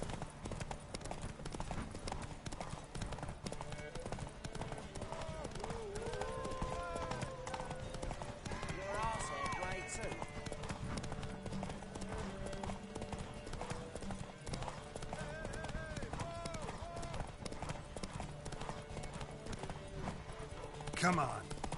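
Roach, the horse in The Witcher 3, gallops in a race with fast, continuous rhythmic hoofbeats throughout, with voices and a musical score playing over the pounding hooves.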